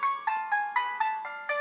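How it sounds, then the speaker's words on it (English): A bright, bell-like classical ringtone from an HTC EVO 4G phone plays a quick series of evenly spaced chime notes, clear and close with nothing else behind it. "You can play the ringtone,"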